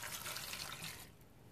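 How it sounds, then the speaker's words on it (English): Two cups of water pour steadily into a pot for seasoning cauliflower, making a soft splashing trickle that stops after about a second. "What I'm going to do is start off with 2 cups of water."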